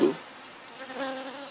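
City bees buzz near the hive in a few brief, close passes, a faint droning hum rising and fading between short gaps of near quiet.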